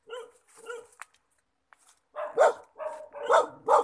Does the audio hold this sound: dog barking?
yes